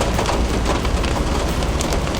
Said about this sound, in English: You guys can probably tell the rain has picked up a little bit since I last checked in.